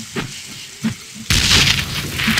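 A grenade explosion in the Darkest of Days video game, set at the Battle of Little Bighorn, lands as a sudden loud boom that gives way to a sustained crackling, hissing roar after a few faint thuds.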